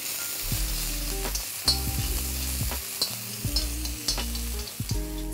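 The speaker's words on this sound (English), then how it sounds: "Just let's fry this for a few seconds." Fenugreek seeds, crushed garlic and ginger fry in oil with a bright, steady crackling sizzle, with occasional spatula scrapes against the pan over a low background hum.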